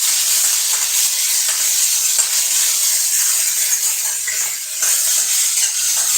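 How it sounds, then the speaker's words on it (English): Mustard, onions and red chili frying in a pan, a steady bright hissing sizzle with faint stirring knocks underneath, close and continuous with no talking. "And what we need is, we need to actually stir it nicely."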